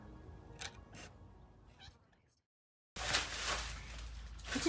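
A pet cat named Quail makes a few short meows and chirps at close range, then a louder rustling burst follows a brief pause.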